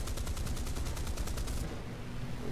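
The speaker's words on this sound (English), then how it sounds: "We'll fire off some cannon rounds at him, just do some damage to his deck crew" Warship cannon fire in War Thunder naval combat, a rapid regular burst of booming rounds for about a second and a half, then stopping under a lingering rumble.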